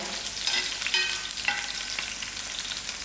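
Garlic and onion fry in a pan for a pumpkin curry, giving a steady, close crackling sizzle with a few sharper pops and no talking.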